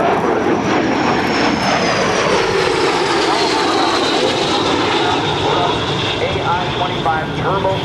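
An Aero L-39 Albatros jet trainer with a turbofan engine passing at an airshow, a loud, continuous roaring engine with a slowly shifting whine filling the whole span.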